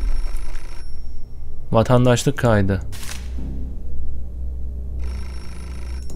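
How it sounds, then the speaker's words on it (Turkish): A telephone rings in the video game Beholder, short trilling bursts near the start and end behind a game soundtrack, with a voice speaking in the middle. "Telefonu aç."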